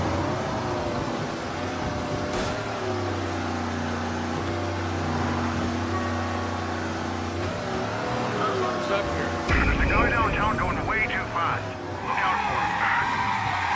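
Car engine droning and tires squealing in a long skid while driving in the Mafia video game, with a harsh crunching burst near the end; someone talks over it.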